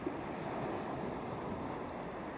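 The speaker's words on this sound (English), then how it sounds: "the waves you can hear crashing on the beach" Waves washing onto a calm beach at night, heard as a steady, soft broadband rush of surf without distinct breaks, fairly faint and continuous.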